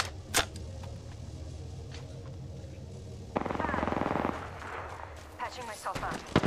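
Video game gunfire in a squad-based shooter, with a sharp shot near the start and a burst of rapid automatic fire midway, followed by scattered shots over steady game background noise.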